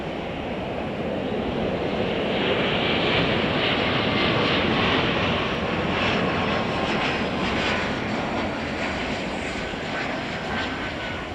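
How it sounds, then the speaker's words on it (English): United Embraer E-Jet landing at Chicago O'Hare, a loud continuous jet engine roar with a broad rushing hiss, swelling slightly midway and holding steady as it passes nearby, no voices. "We're going to try to catch United Flight 5296 from Tulsa. Got an E-Jet."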